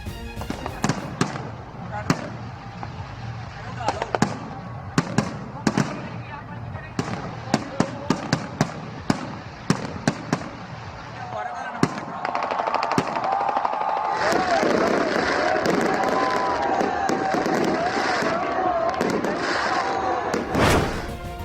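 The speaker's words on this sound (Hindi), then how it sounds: "मुख्तलिफ शहरों में आतिशबाजी," New Year's fireworks crackle and bang in rapid bursts, sharp pops scattered and overlapping, then a dense continuous crackling roar takes over with crowd noise underneath.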